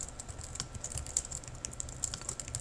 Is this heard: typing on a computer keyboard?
yes